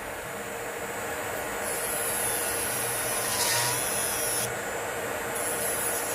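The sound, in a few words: Kredioo 35,000 rpm electric nail file removing hard gel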